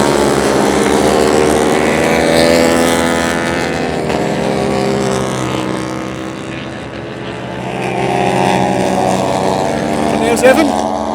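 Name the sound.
racing motorcycles passing at racing speed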